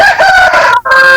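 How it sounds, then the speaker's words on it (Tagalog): A rooster crows loud and close in a single drawn-out cock-a-doodle-doo with a brief break near the end, alone without talk. "Manok."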